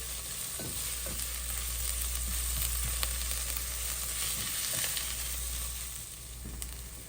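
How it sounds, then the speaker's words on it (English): Food fries steadily in a pan for a lobster ravioli filling, a continuous soft sizzle with faint stirring clicks throughout, no voices. "I'm gonna fry that a little bit here until it's almost translucent"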